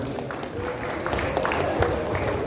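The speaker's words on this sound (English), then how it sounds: "Please give him a round of applause." Applause from the audience at a convention launch event in Benin City, Edo State, a steady dense clapping wash that continues throughout, with some crowd murmur mixed in.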